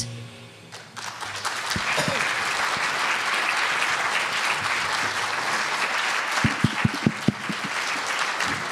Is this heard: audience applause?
yes